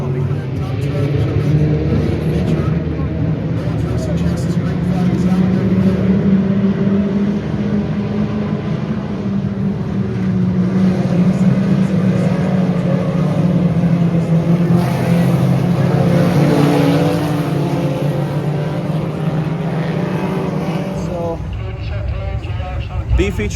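Mini stock race cars roar around the bumpy 81 Speedway track during a B feature, engines droning and rising in pitch as they pass close by, with people talking over the continuous racing noise.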